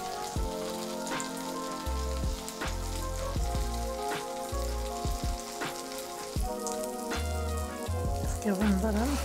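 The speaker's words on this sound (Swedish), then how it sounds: "nu ska jag steka det här i massa smör" A tuna melt sandwich with cheese and jalapeño fries in plenty of butter, sizzling and crackling steadily, with occasional thuds and scrapes from the pan.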